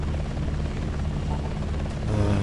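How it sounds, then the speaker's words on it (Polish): Helicopters fly in the video game Hostile Waters, a steady low rotor drone with a rhythmic thrumming pulse that holds constant and swells slightly at the end. "Ponieważ te helikoptery lecą tutaj i potem zaraz zakręcają na północ."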